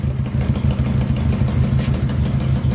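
A 1982 Honda Goldwing motorcycle engine idles steadily right after its first start, a loud, low, even rumble with a rapid regular pulse that holds close and constant throughout, with no voices.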